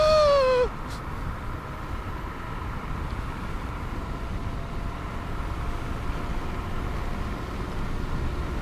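A Teverun Fighter 11+ electric scooter climbing uphill, its motors giving a brief rising-then-falling whine at the start, followed by a steady rush of wind and road noise.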